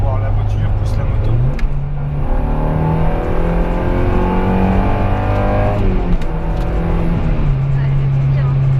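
Motorcycle engine climbing in pitch as it accelerates to overtake, a steady loud drone with a rising gear step and a brief dip before pulling again, with road and wind noise throughout.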